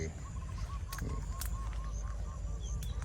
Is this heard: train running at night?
no